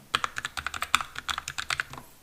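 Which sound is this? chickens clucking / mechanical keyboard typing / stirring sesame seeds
mechanical keyboard typing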